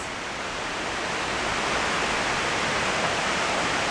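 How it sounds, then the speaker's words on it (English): A small waterfall pours in a steady, dense wash of broadband rushing noise that stays constant and close throughout, with no voices over it. "Here's a little waterfall."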